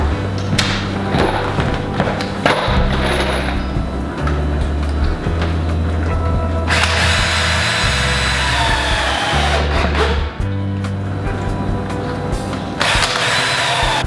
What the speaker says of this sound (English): I'm gonna finish screwing all the end walls in place now.